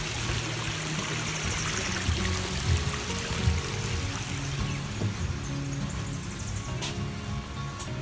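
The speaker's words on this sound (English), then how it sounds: "a nice water feature that works its way back down to the bottom of the hill" Water trickling and pouring steadily down a landscaped hillside water feature at Burdette Park in Evansville, Indiana, a soft, continuous splashing stream heard up close with no voices.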